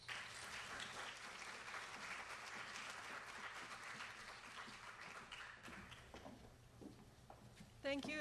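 A lecture audience applauds to welcome the speaker Kathleen Morrison before a talk on the impact of dams in India. Many hands clap in a sustained, even patter that thins and fades toward the end, followed by a few faint taps and a brief thump.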